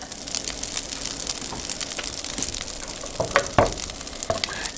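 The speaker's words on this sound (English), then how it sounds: "I'm gonna get my onions in there and we're going to saute them for a few minutes" Onions sautéing in melted butter in a skillet give a steady, close sizzle with crackling pops and occasional stirring clicks, continuous with no talking.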